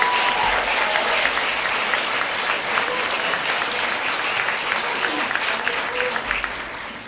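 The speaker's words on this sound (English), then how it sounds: "Folks, a round of applause for the class of 2023 Top 10." An audience at a high school senior awards night applauds the class of 2023 top ten, giving a dense, loud, sustained clapping from a large crowd that carries on for the full stretch.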